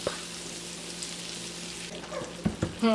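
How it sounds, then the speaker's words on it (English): Soft, steady sizzling of butter melting in a pot, close up, followed by a few clanks and scrapes of a utensil near the end. "Let that sizzle"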